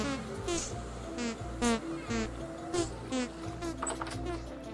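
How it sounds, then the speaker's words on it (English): Insects buzzing around bee skeps in the Vintage Story video game, a steady drone of repeated short buzzing passes that swell and fade, fairly close, with no talk over them. "if you harvest all of your skeps, you end up with no bees left"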